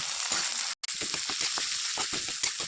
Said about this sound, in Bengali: তেল গরম হয়ে গেছে, পেঁয়াজ দিয়ে দেব। পেঁয়াজ আমি ভেজে নেব।